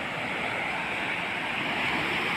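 Water rushes hard through an open floodgate in a steady, loud, continuous roar with no break, close by and alone.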